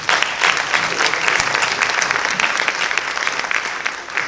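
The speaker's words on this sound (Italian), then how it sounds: "va tutto il nostro applauso" Clapping fills a theatre at the Teatro Giuditta Pasta in Saronno during a season presentation, a continuous, close, even patter of many hands for a few seconds with no voices over it.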